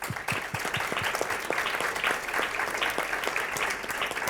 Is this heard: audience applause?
yes